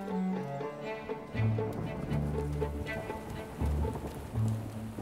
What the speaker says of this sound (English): We can't go fishing in a storm.